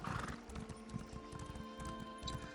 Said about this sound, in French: je prends mon cheval.